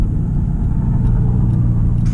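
A steady, loud low rumble of car engines in congested road traffic after school started back, with a car sitting idle in the queue; continuous and close with no voices.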